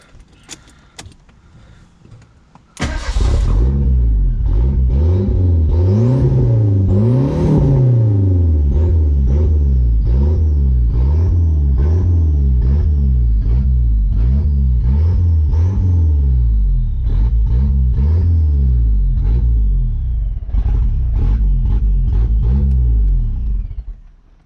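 A Merkur XR4Ti turbo car engine starts after a short pause and then runs loudly and steadily, its pitch rising and falling with repeated revs, close up, with no talking.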